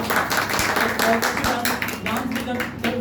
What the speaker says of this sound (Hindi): तो एक बार जोरदार ताली बजाइए